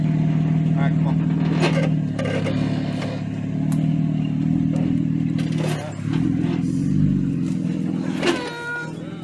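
Jeep Wrangler JKU Sport, lifted and locked, idles and rumbles while reversing off-road, with clattering knocks and brief squeaks over the steady engine hum as people talk nearby.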